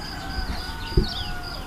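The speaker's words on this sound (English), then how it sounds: "There's that damn rooster." A rooster crowing in the morning at a boat cruise departure area, a drawn-out, fairly distant crow heard under ambient outdoor noise with a brief knock partway through.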